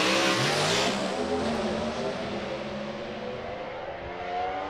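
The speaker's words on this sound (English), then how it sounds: "You can hear the revs building up on both cars." Two Pro Stock drag racing cars rev hard at the start line. Their engines make a loud, dense, sustained roar with a rising, rippling pitch, and no voices are heard.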